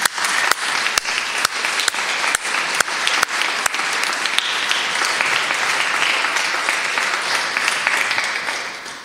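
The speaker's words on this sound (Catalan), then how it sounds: "Per tant, també un aplaudiment." Sustained audience applause at a Catalan recital event, dense steady clapping from a crowd with a few sharp close claps standing out, lasting about nine seconds.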